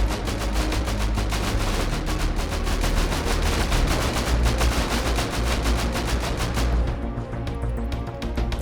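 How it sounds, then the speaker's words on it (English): Rapid bursts of gunfire and rocket blasts from a night raid on a medieval star fort in the game Rust, dense and continuous, loud throughout, easing slightly near the end. "Both sides are relentless fighting for their cause, as rockets and gunfire continue to light up the night sky."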